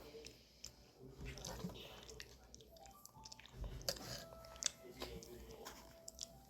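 Soft, close chewing of jajang tteokbokki (rice cakes in black bean sauce), with quiet wet squishing bites and occasional faint murmured speech.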